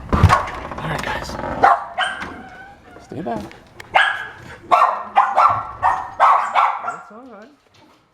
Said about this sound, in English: here come the dogs